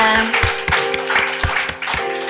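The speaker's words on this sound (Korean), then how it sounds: "우리 하나님께 감사의 박수 올리겠습니다." A church congregation at Gwangju Antioch Church claps in steady rhythm over loud sustained music during a worship service, the beats evenly spaced and prominent throughout.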